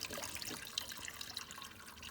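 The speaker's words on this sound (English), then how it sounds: "I'm just going to pour the rest of this 1 container of chicken stock." Chicken stock pours from a container into a pot, a steady soft splashing stream with faint trickles, quiet and alone.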